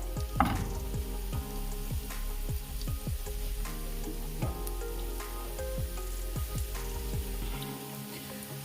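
Liver sizzles steadily in a hot frying pan, a dense continuous crackle with scattered pops and stirring clicks, close and moderately loud, cutting off abruptly near the end.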